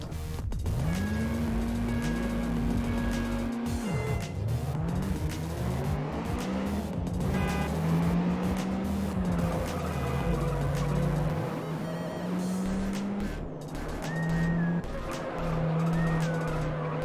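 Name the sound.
race cars driving and skidding in video game Juiced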